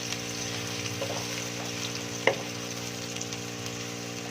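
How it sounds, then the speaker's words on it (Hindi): Onions frying in hot oil in a pan, a steady even sizzle under a constant hum, with one brief clink partway through. "और ऑयल हमारा भी गर्म हो गया है। इसमें भी हम डालेंगे प्याज।"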